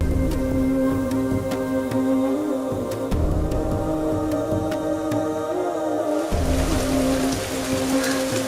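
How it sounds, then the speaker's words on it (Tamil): Rain sets in on a hill at an old Shiva temple being restored, a steady hiss of drops on surfaces under a constant tonal hum, continuous and fairly loud with no speech. "மலையில இன்னைக்கு பார்த்தீங்கன்னா வேலையை முடித்தோம் மழை வந்துருச்சு"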